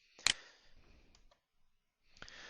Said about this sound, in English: just hit the Enter key on the keyboard to create a little bit of a separation here